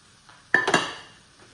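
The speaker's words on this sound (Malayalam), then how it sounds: "എന്നിട്ട് നല്ല പോലെ ഇളക്കി യോജിപ്പിച്ച് എടുക്കാം." Spoon stirring prawn fry into biryani masala in a pan, a single close clink and scrape followed by a brief fading rustle, alone with no talk.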